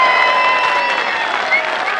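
A large crowd claps and cheers at a PTI political rally in Mianwali, a loud, dense wash of applause with whistles and voices ringing through over the full stretch.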